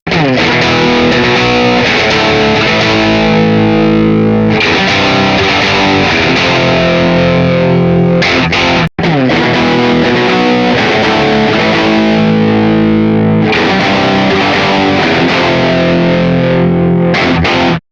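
Heavily distorted electric guitar chords ring out loud and sustained through a Bogner amp, changing every few seconds, with a brief cut in the middle.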